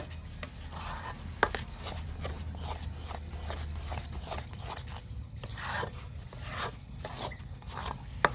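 Halwa for kanmushri pitha, a Bangladeshi village pitha, stirred continuously in a pan, giving a steady rasping scrape with repeated strokes that run throughout, close and fairly quiet with no talk.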